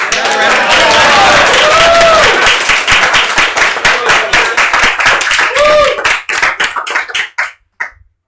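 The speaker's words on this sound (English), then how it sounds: "I get a round of applause for Tynamo." A crowd at an esports LAN grand final bursts into loud, close applause with a few whistles and cheers, then the clapping thins into scattered claps and fades out.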